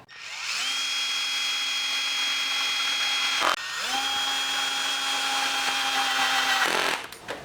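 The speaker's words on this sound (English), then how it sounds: "just bolt these back on with some fresh Loctite" A cordless power driver spins twice near the mic while bolting parts back onto a Scott commuter bicycle. Each run is a loud, steady whine lasting a few seconds, with a short stop between the two runs and no talk.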